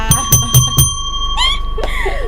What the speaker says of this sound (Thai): ทำไมกระดิ่งมันสะดุด